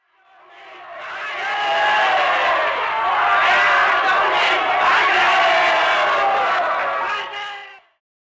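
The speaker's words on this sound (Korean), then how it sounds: "서울 거리는 순식간에 환호로 가득" A large crowd roars and cheers in the streets of Seoul as a radio-drama effect, swelling in from silence, holding a sustained loud mass of shouting voices, then fading out quickly at the end.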